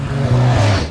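A Koenigsegg Regera, a Swedish supercar rated at 1,140 horsepower, revs loud and close, its engine note rising and settling in a strong tonal drone over about a second with no talk.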